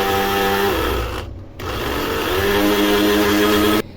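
An electric kitchen grinder whirs loudly as it purees tomatoes and onions into a paste, a steady motor drone with a brief pause near the middle before it starts again, then a sudden stop at the end.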